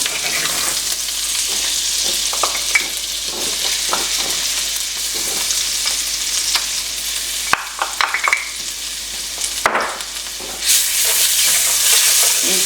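Garlic and other food frying in a skillet over low heat while being stirred constantly: a loud, steady close sizzle with soft spatula scrapes and a few sharper knocks throughout, no voices.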